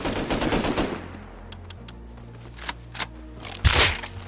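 Rapid automatic gunfire from the survival shooter Rust on console: a dense opening burst of shots, then scattered single cracks and a final loud close volley, with no talking.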